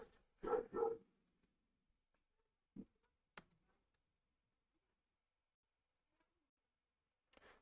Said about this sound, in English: What's going on with the dog outside?